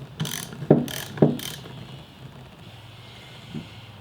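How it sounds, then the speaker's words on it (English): A ratchet turning a 7mm socket to loosen a part on a Honda VT500 Ascot motorcycle carburetor, giving a few sharp close metallic clicks early on and a faint one near the end, over a quiet room. "So using a 7mm socket, you're just going to loosen this one."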